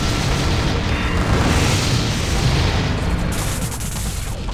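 Anti-infantry weapons firing in the video game Gun Metal, a dense continuous barrage of booming blasts and bursts that stays loud throughout with no pauses.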